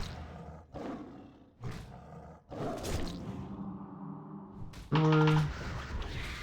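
Savage Roar ability effect in World of Warcraft: a feral roaring burst with a bright tonal chime, rising loud and close after clattering combat hits and a brief rumble.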